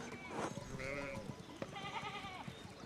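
Sheep bleating in the medieval game Pentiment, several wavering calls in close succession, moderately loud over a faint background.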